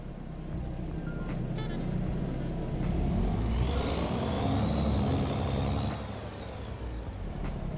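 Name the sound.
DD60 truck engine running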